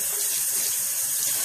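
Cold tap water running over a makeup sponge at a bathroom sink, a steady, close, hissing stream that continues evenly throughout with no voices.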